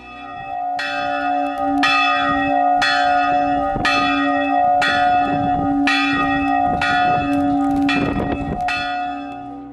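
The bell of the hermitage of Pilar in Andorra, Teruel, rings loudly in regular repeated strokes, each clang ringing out with a long shimmering tail, close and alone without voices.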